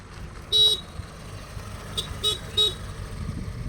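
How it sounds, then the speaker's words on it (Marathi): A scooter horn gives several short beeps, one near the start and three more in quick succession, set against quiet road ambience. "येतोय का हॉर्नचा आवाज?"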